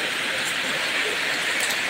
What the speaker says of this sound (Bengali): প্রচুর বৃষ্টি হচ্ছে, প্রচুর বৃষ্টি।